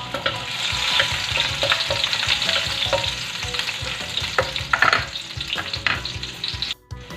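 Garlic sizzles steadily in a hot pan for chicken feet adobo, a dense continuous frying hiss with occasional stirring scrapes and pops, close and loud, no voices.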